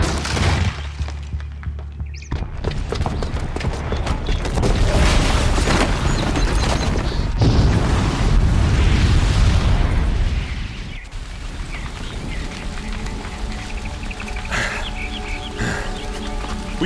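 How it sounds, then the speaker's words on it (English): A bomb blast in Horizon Zero Dawn, set off by a booby trap downstairs, erupts as a loud sustained roaring rumble with crashing and shattering debris, then fades into lingering crackling rubble and ambient game sound. "the booby trap on the bomb downstairs is gonna get set off"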